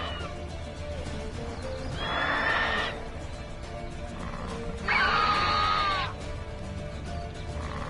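Roach the horse from The Witcher 3 gives two loud whinnies, one around the middle and a second, stronger one shortly after, over a steady ambient game background with faint hoof sounds.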